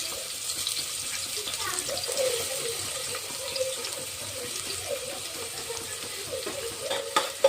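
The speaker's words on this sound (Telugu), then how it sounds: "కొంచెం దూరగా వేయించుకొని నెక్స్ట్ కొన్ని ఆనియన్స్ వేసుకొని" Onions frying in a pan give a steady, moderately loud sizzle with soft scraping and stirring clicks throughout, and a faint voice underneath.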